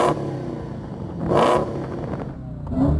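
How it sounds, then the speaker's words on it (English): An American muscle car's engine revving hard toward a 4,500 RPM limiter, a loud close roar that swells twice over a steady idle rumble, with no speech. "So I'm going to rev up this engine."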